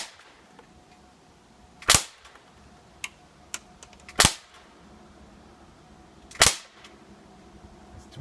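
Umarex XCP .177 CO2 BB pistol firing three sharp, loud cracks spaced a couple of seconds apart, with a few fainter clicks between shots and no talking.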